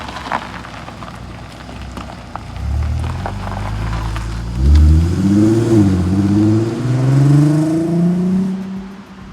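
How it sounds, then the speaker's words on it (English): A Volkswagen R32 engine revs hard during a launch control start, a low rising drone that climbs and falls through several pitch sweeps. It is close and fairly loud, with steady noise underneath. "Driving the Volkswagen R32 with launch control."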